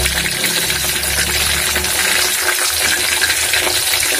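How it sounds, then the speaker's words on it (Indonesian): Chilies and shallots fry in a pan for sambal with a steady, loud, broadband sizzle that keeps going the whole time, dense and crackling with no talking over it. "Dan aku menggorengnya setengah matang aja, karena nanti juga akan digoreng lagi."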